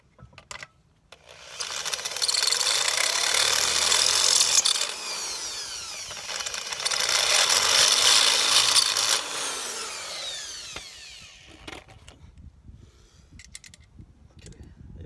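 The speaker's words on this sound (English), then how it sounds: "this little two-step drill bit" A two-step drill bit bores through material while upgrading fuel lines on a 1993 MR2 Turbo, giving two long, loud, close whining, grinding runs separated by a brief dip, followed by quieter handling noises at the end.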